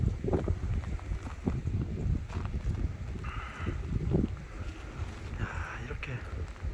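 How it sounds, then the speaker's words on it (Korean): Strong wind gusts through a winter night snowstorm on a town street in Jindo, Korea, a steady broadband roar with swelling, buffeting surges and occasional brief hisses, loud and continuous throughout. "바람이 쌩쌩 불면서 눈보라가 칩니다."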